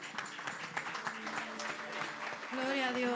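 A church congregation applauds during a praise and worship service, a dense wash of clapping running under a leader's voice and continuing steadily to the end.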